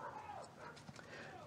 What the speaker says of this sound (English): oh, shut up with your dog.